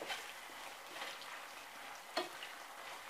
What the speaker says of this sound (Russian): И также обжариваю лук до румяности.